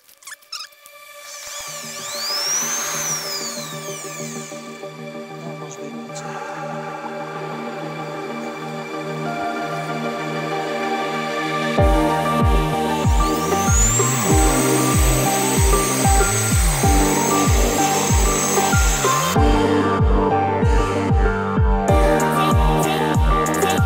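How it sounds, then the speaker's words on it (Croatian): A power tool grinds on a Mercedes 190 build with a truck turbocharger and OM605 engine, starting with a rising whine and turning into a loud, steady grinding with rhythmic pulses and squeals, close and alone. "Sa ovim će da se brusi i mislim da će da skida to bez problema."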